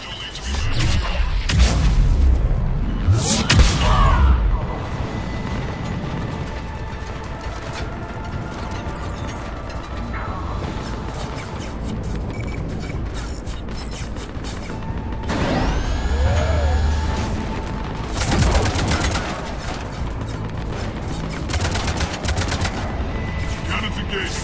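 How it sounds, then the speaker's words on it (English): Spaceship cannons firing in the Mass Effect 3 Omega DLC video game, heavy booming bursts and rattling gunfire over a constant loud mechanical roar, with a sweeping tone partway through. "Cannons engaged"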